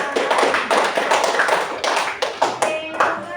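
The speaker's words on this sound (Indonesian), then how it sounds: "tepuk tangan untuk kelompok 2" Children in a fifth-grade primary school classroom clap for a group, a lively ragged patter of small hands settling into rhythmic bursts, close and fairly loud.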